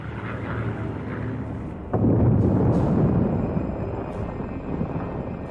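A large WWII bomber banks away at high speed, its steady rushing roar swelling abruptly into a louder, heavier rumble partway through and then holding strong and close.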